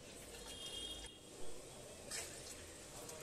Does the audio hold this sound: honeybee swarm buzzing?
no